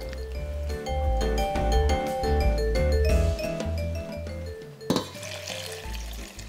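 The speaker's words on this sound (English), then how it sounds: "I'm gonna get some water and fill the pot up halfway." Tap water running into a cooking pot in a kitchen, a steady splashing flow with clinking of the pot, ending in a brief clatter and quieter trickle.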